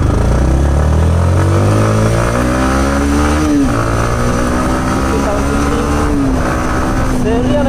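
A Yamaha MT-15 motorcycle ridden up close, its engine loud and revving, rising in pitch through each gear with clear drops at the shifts as it accelerates over a short distance.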